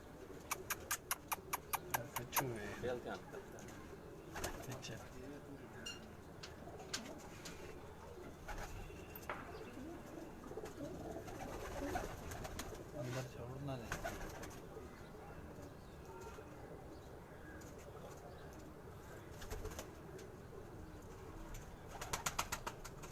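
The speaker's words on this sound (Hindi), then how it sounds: "घर की तौसी ब्रीड के जो कबूतर हैं" Tausi breed pigeons in a loft coo repeatedly in soft, low throbbing calls, with rustling and faint background noise around them.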